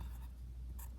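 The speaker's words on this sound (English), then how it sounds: "maybe we could write it off to the side" Pen or marker writing a label on a paper map of North America, a soft continuous scratching stroke, close and quiet, with no talk.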